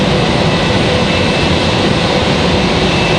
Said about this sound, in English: a JetBlue back at the gate for the second time